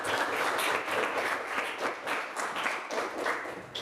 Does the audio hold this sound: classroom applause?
yes